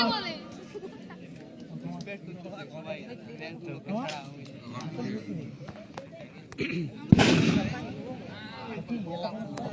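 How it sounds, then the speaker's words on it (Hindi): Under a busy crowd babble, a single loud crack bursts out like a firecracker, followed by scattered smaller pops and a continuing din of voices. "यहाँ पे बाहर में पटाखा फटते हुए"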